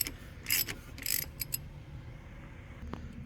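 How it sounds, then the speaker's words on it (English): A ratchet with a 15/16 socket clicks in a few short bursts on the oil filter of a 2021 Dodge Charger V6, close but fairly quiet over low background hum. "We're going to use a 15th 16th to open up our oil filter here."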